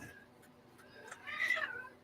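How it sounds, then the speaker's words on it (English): A cat meows in a room, a faint, drawn-out cry that swells toward the end over a quiet indoor background. "these damn cats."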